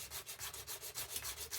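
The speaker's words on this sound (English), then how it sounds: "240 grit sandpaper and just sanding all the edges which were a little bit higher and wider" A metal ring's edges are sanded by hand with 240 grit sandpaper in quick, even back-and-forth strokes, roughly eight per second, giving a soft, close, rhythmic rasping.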